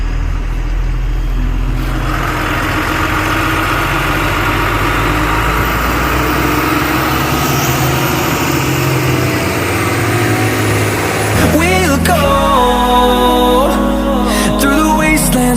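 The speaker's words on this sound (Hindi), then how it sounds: "वो आ गई गाड़ी।" Heavy diesel engine rumbling steadily at close range while a vehicle arrives, with a rising whine partway through; near the end, clanking and tonal mechanical sounds join the idle.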